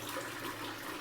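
Running tap water: a steady, fairly faint broadband hiss and splash, continuous with no talk.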